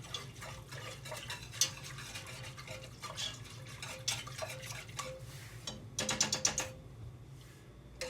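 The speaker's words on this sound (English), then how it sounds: "Keep stirring. Don't want it to stick to the bottom, but it is starting to thicken up." A spoon stirs thickening chicken croquette mixture in a pot over low heat, making steady scraping and clicking strokes against the pot, with a quick burst of denser scraping near the end.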